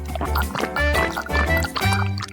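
Freshly squeezed orange juice is poured into a glass as a close, bubbling liquid gurgle that lasts a couple of seconds, with a voice speaking at the same time.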